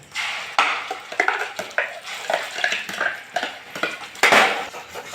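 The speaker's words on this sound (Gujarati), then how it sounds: "ગ્રેવીને આ રીતે બરાબર મિક્સ કરી દે" A spoon stirs onion-tomato gravy tempered with cumin and asafoetida in hot oil, giving repeated scraping clatters against the pan over a low sizzle; no one speaks.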